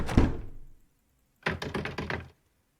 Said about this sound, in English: I heard some knocking on this door.